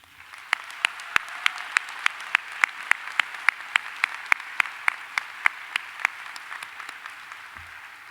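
Scattered hand claps from a small crowd honouring school faculty and staff at a medical school graduation ceremony, sparse and distinct individual claps in an uneven rhythm over steady room noise, fading out near the end.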